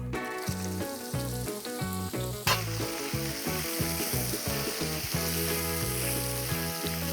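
Onions sizzle steadily in a little oil in a cauldron, a bright continuous hiss that runs under loud rhythmic background music.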